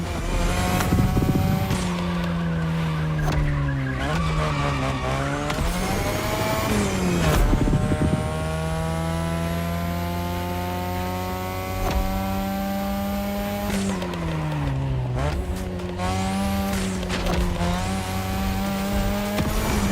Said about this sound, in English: your ride is a third-gen 2002 Mazda RX-7. Lightweight, compact, a sick rotary engine